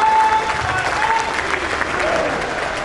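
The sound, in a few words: audience applause welcoming the Prime Minister on stage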